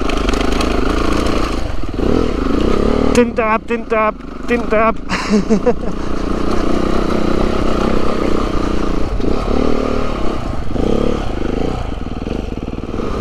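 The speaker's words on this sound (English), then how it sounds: "A little bit lighter on this motorcycle than it is on the Aprilia" A Beta 390RR trail motorcycle engine revving and labouring over logs and rough ground with clattering bumps, while a rider talks over the noise.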